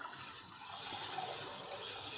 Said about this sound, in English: You fill it in distilled water